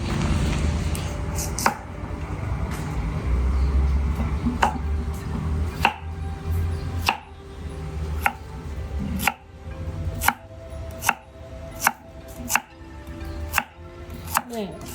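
A knife chops carrots into long sticks on a cutting board, with steady, evenly spaced sharp thuds that grow more regular and pronounced toward the end, during home cooking.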